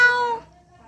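A cat gives one short, clear meow close by, which fades within half a second into near silence.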